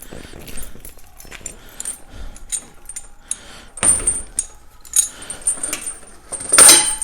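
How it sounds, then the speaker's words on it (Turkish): Keys jangle and clink in bursts with metallic rattles and small clicks as a Yamaha Drag Star motorcycle lock is unlocked, close up, growing louder toward the end. "Motorun kilidini açayım."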